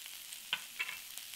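Boiled potatoes and green peas are mixed in a pan for a Punjabi samosa filling, giving a soft frying sizzle broken by a few brief scrapes of the spoon.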